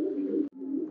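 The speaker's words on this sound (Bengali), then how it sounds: "আর মা এটা হলো গলালাল জাতের কবুতর" A Golalal breed pigeon at a Khulna pigeon farm gives two sustained low coos close up, split by a short break.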